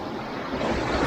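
Rough Black Sea waves churn and wash steadily around a small fishing boat, a dense, loud roar mixed with wind noise on the microphone, with no voices.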